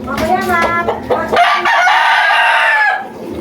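A chicken clucks and squawks up close, then a rooster lets out a loud, drawn-out crow lasting over a second. A person's voice can be heard in the background.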